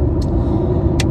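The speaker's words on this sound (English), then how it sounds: "as y'all can see, the car is running" A car's engine idles steadily with a low, continuous rumble after a jump start, close by, with a couple of brief higher hisses and no talking.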